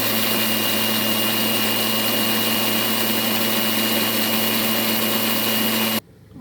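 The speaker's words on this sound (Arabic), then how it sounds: "وهنضربهم بقى حلو في الكبه عشان لما التوم ده يتفرم كله يبقى خلاص كده" A food processor whirs steadily while mincing garlic cloves for Syrian toum garlic sauce, a loud continuous motor hum that runs for about six seconds and then cuts off abruptly.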